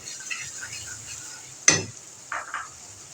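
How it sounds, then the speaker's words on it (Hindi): A spoon mashes tomatoes in a pan of frying masala for spicy dal chana fry, with a faint steady sizzle, one sharp clink of metal on the pan, then soft scraping and squelching strokes. "टमाटर को ज़रा सा हम और मैश कर लेंगे चमचे से"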